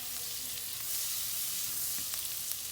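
Butter and garlic sizzle in a pan with a dense, steady crackling hiss, close and continuous, with faint stirring and no talking.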